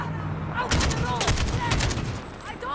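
Gunfire crackles in Call of Duty: Modern Warfare (2019), with rapid bursts of shots in quick succession mid-clip against a rumbling battlefield backdrop, and voices talk over it.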